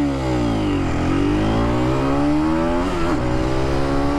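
An Aprilia motorcycle engine revs hard through gear shifts, its loud, continuous roar sweeping upward in pitch, dipping briefly at each change, then climbing again.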